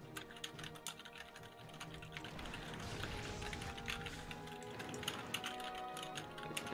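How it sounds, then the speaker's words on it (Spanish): Rapid, steady clicking of fingers typing on a computer keyboard, a dense run of light keystrokes at moderate level with no voices. "El tecleo."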